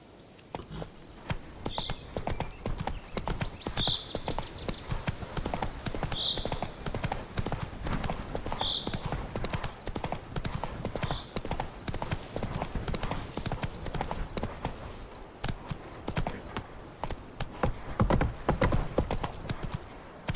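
Horse hooves pound in a continuous gallop in The Witcher 3 video game, a steady driving clatter lasting throughout, with brief faint chimes repeating at regular intervals early on.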